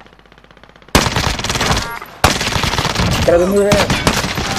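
Bursts of rapid automatic gunfire in a video game, loud and close, broken by brief pauses, with a voice speaking over the shooting.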